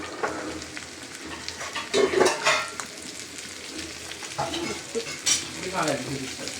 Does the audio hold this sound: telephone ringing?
no